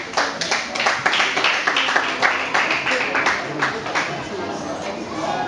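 Studio audience applause with scattered clapping and crowd murmur, welcoming a company representative onto a French television talk-show set, sustained and fairly loud throughout.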